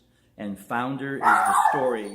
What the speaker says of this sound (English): That's my dog. She doesn't like when people walk by.